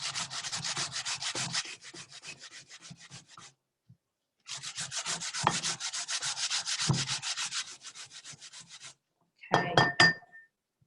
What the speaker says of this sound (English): It's quite easy to grate.